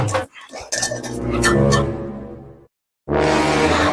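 A metal cooking pot clanks and rattles close by for about two and a half seconds while it is stuck on a person's head, followed by a short silence and then a burst of noise.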